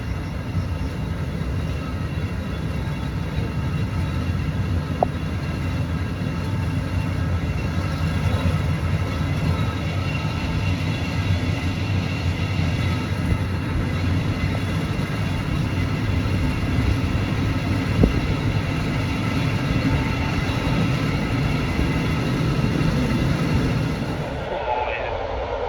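Slovak domestic sleeper train departing and running, a steady low rumble and rolling hum from inside the carriage, continuous and fairly loud, dropping sharply at the very end.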